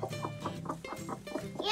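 Chicken clucking repeatedly in a coop, a steady run of close, moderately loud clucks.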